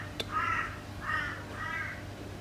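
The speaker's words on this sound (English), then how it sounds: "With the crow going off." A crow caws outside, three drawn-out harsh calls in steady succession, moderately near and clear above a low background hum.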